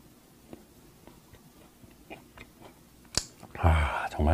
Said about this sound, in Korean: 바나나 브레드가 나왔네요. 요거. 제가 한번 먹어보겠습니다